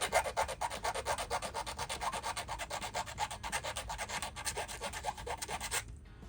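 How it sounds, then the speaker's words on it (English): A file works rapidly back and forth on a plastic model train coupler during a Kadee coupler conversion on a 4-axle passenger truck, giving a close, steady rhythmic rasp that stops abruptly at the end. "Set it down, hold it down, start filing."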